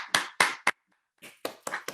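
A small audience claps in a few sparse, separate bursts, with a brief pause before another short round of scattered claps, close and fairly loud, with no talk.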